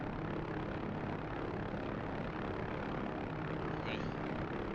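A helicopter in a video game flies with a constant roar of rotor and engine, loud and unbroken, filling the whole stretch.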